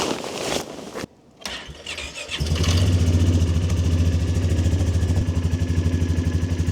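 A Polaris Sportsman 450 ATV engine cranks in freezing 28-degree cold, with a few short sputters and a brief pause before it catches around the two-second mark and settles into a loud, steady, throbbing idle close by.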